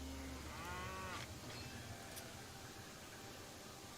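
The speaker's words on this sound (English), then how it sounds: "I think I have a cow in my left ear" Cow mooing in the railway building game Railway Empire 2, a single drawn-out low moo over a steady hiss of game ambience, moderately close.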